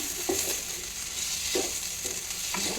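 Spatula stirring makai chevdo, crisp corn frying in a pan, with a steady sizzle of oil and a few short scraping strokes at intervals, close and alone without talk.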